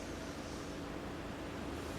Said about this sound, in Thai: นี่คือเสียงดีเซลแล้วท่านผู้ชม